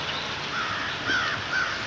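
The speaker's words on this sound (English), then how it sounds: "A lot of birds here this morning. They're having a feeding frenzy." Crows caw outdoors in the morning as a flock gathers in a feeding frenzy: three short, harsh caws stand out over a steady, noisy background, with no talking.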